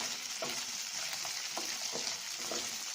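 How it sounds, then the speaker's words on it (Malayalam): Brinjal and okra sauté in an oil-filled pan for a curry, giving a steady, close hiss of frying with a few soft scrapes of stirring and no talking. "വഴറ്റി കൊടുക്കണം."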